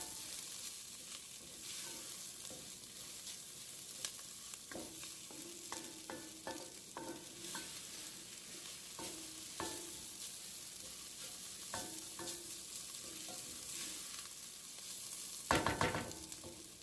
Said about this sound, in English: So I'm just going to cook the onions and combine it with the dried seasonings